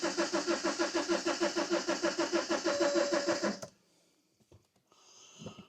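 A car engine on a BMW that would not start after its MOT cranks with a steady, rhythmic pulsing for several seconds, then cuts off abruptly, leaving near silence and a few faint clicks and a brief hiss.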